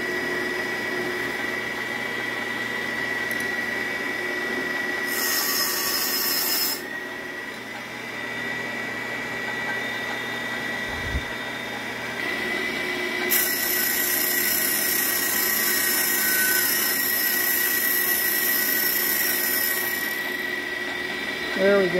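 An old Kwik-Way SV valve resurfacer grinding an engine valve, a steady high-pitched whine and hiss with harsher bursts of grinding, close up, running continuously alongside workshop noise.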